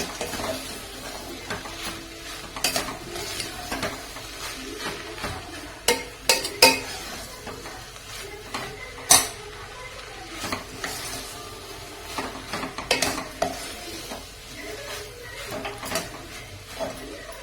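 Stirring sambar in a cooking pot: irregular scraping and clinking of a spoon against metal, with sharper knocks scattered throughout, fairly close and moderately loud, no talking.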